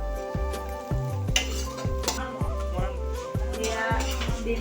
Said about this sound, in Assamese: নিমখ আৰু হালধি জোখত দি এতিয়া ডিমটো ভাজি পেলাব লাগিব